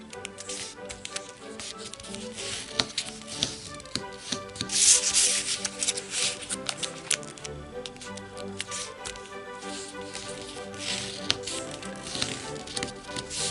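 Sheets of origami paper being creased and folded for a one-piece four-pointed ninja star, giving close, steady rustling and rubbing with sharper crinkles, busiest around the middle, with no talk.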